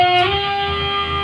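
A short sustained distorted electric guitar note rings out with a brief bend or slide at the start, part of a lick, played alone without talk.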